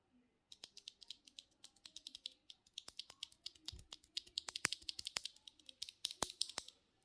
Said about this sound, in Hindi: ये जो है आवाज़ है ओवरऑल इस स्विच की